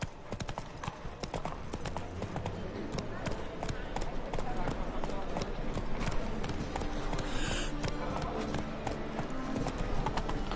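Horse hooves gallop in The Witcher 3 on the streets of Novigrad, with a steady rapid clip-clop rhythm running throughout under dense game ambience and music, while a voice speaks at intervals.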